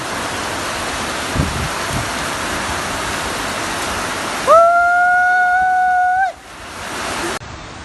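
Heavy rain pours over Edakkara town as a steady, dense hiss. Partway through, a loud sustained tonal whine cuts in over it, then fades.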